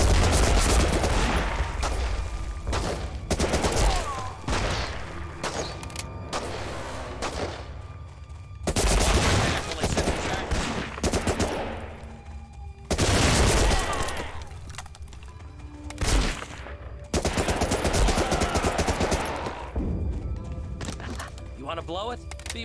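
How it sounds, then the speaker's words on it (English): Thompson submachine gun fire in Medal of Honor Rising Sun comes in several loud, rapid bursts separated by brief pauses, close up, with in-game voices and other combat noise between the volleys. "Well, Thompson is probably best in this situation."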